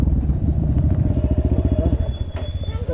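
A motorcycle on a rainy hill road at Chandragiri engine-throbs close by while being moved to a parking spot, its rapid, even putter steady throughout, with light rattling and a faint squeak over it.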